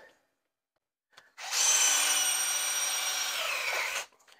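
A power drill with a uni step bit bores a hole during fabrication of a coolant pipe for a Subaru Sambar. After a short blip, a steady, close, high-pitched whine runs for about two and a half seconds, then cuts off.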